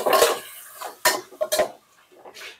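A spoon stirs chicken in a pot for tinola, knocking and scraping against the metal in a few sparse, close clanks separated by short pauses.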